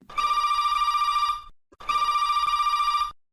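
A telephone rings for a phone-in call on a radio show, two long electronic bell bursts of about 1.4 seconds each with a short gap between, close and clear, with no talking.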